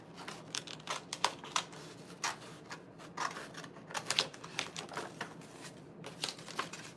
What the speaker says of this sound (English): let me try and cut this out. The only thing about the tiny scissors is they're making me do so many little movements